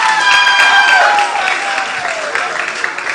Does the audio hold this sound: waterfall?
no